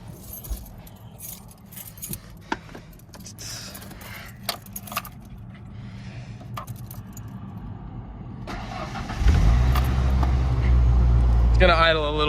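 A 1991 Ford Ranger with the 2.3 engine, its O2 sensor faulty, cranks briefly and fires up, then settles into a loud, steady, slightly rough idle close by after quiet handling sounds and keys jangling.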